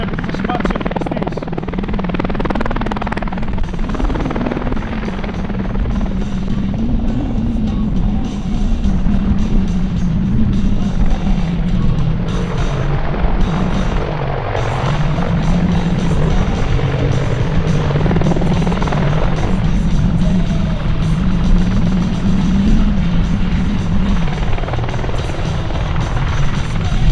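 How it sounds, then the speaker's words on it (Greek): An Apache AH-64D attack helicopter flying backward and climbing at an air show makes a steady, loud rotor thrum with rumbling engine whine throughout, with crowd or commentary noise blended underneath. "Το επιθετικό ελικόπτερο εκτελεί οπίστια κίνηση παίρνοντας ύψος."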